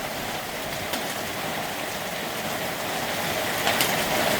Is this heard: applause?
no